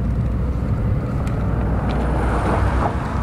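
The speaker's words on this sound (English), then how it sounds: "pickup truck coming by now." Pickup truck rolls past outdoors, a broad low rumble of engine and tires with wind buffeting the microphone, steady and moderately loud throughout.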